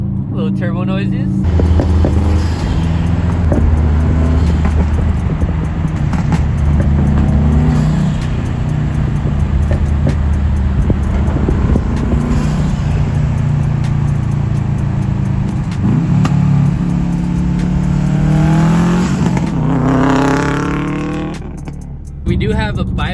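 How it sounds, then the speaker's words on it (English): Subaru WRX STI with a new intake, engine running close and loud with several revs rising and falling, faint turbo whistles over the low exhaust drone, fading down at the end. "Little turbo noises."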